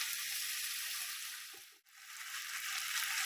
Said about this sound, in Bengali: হ্যাঁ, এবার ভেজে নিচ্ছি